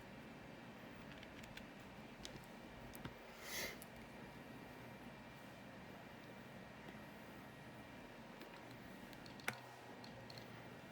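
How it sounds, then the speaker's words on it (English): Faint, small mechanical ticks come from an iPod Classic's click wheel as it scrolls, scattered irregularly over a low, quiet background hum, with one slightly sharper click near the end. "I have the clicking noise from when I scroll up and down"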